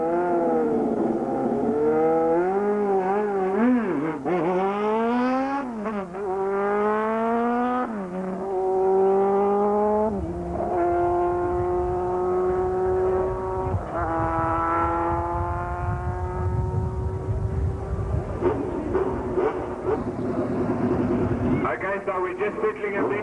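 Race cars at Tarlton raceway in 1997 rev and accelerate hard through repeated rising gear shifts, loud and close, with a commentator talking over the engines throughout.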